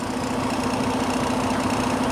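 A Detroit DD15 diesel engine idles during a fuel rail high-pressure leak diagnosis, a steady loud rumble with a strong constant hum and a faint ticking knock, close and unbroken, no voices.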